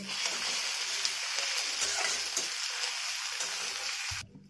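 Tomato frying with ginger and garlic paste in hot oil for a snakehead fish curry, a loud, continuous close sizzle with faint stirring that cuts off abruptly at the end.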